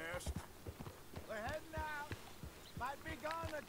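Horse hooves clip-clopping along a town street in Red Dead Redemption 2, a steady rhythmic trot of sharp hoof strikes, with someone talking over them.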